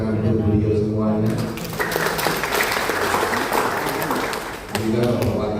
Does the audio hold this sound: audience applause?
yes